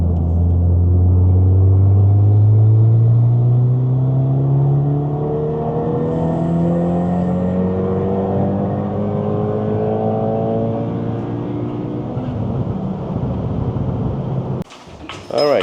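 Loud 2024 Acura Integra Type S engine running flat out on a dyno, its note climbing steadily in pitch through the revs before cutting off abruptly near the end.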